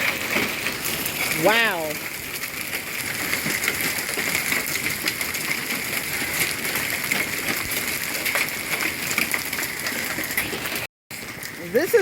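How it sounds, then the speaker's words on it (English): Hail falling during a Spring Hill, Florida hailstorm, a steady dense patter of stones on surfaces around the recorder, continuous and fairly loud, with a person briefly exclaiming early on. "This is the first time I've seen hail in years."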